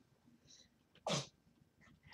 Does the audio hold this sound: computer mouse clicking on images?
no